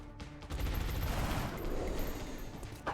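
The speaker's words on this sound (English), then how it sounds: "Taking heavy fire." Heavy gunfire erupts in the video game Long War XCOM, a dense, loud fusillade of overlapping shots that rattles on continuously for nearly three seconds after a brief quiet start.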